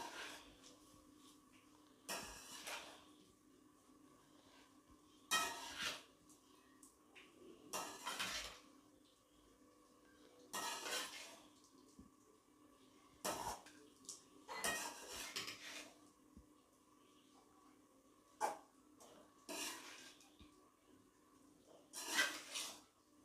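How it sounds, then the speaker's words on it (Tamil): Lemon rice being stirred and turned in a pan: repeated bursts of metal spoon scraping and clinking against the pan, about eight separate stirring strokes spaced a couple of seconds apart, close and clear with no talking. "இதை நல்லா அப்படி திருப்பி போட்டு நல்லா கிளறணும்"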